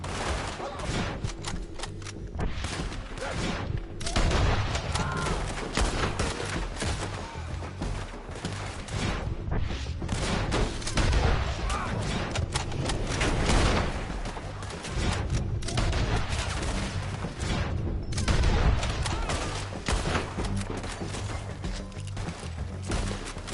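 Shootout in the video game Red Dead Redemption 2: dense, continuous gunfire with rapid overlapping shots and heavy booms, loud and close, with occasional short pauses between volleys.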